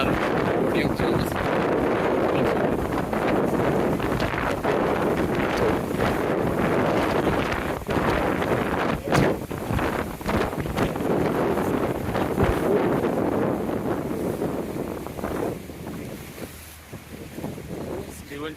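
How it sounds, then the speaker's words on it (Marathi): Strong wind roars and buffets the microphone continuously on a boat trip to Capri, with a boat engine and water rushing underneath and faint voices mixed in. "टोपी उडून गेली इतक्या जोरात वारा आला"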